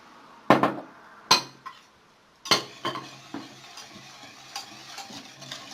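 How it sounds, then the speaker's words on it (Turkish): A spoon scrapes and clinks around a pot as cocoa, flour, sugar and cold milk are mixed for profiteroles off the heat, a few sharp metallic knocks followed by softer repeated stirring strokes. "soğuk sütümüzü ilk önce ocağa almadan önce dışarı böyle karıştırıyorum"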